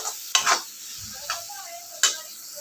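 Masala roasts in a pan over a low gas flame, a gentle sizzle punctuated by four or five crisp spoon scrapes and stirs, close by with no talking.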